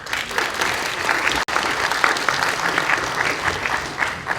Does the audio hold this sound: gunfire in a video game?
no